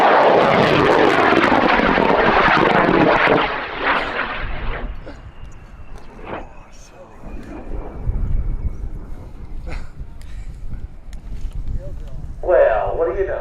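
A 100-pound, 15-foot-tall model rocket launches at an air show, with a loud roaring burn for about four seconds that fades into a distant hiss, then scattered crowd noise and a brief burst of voices near the end.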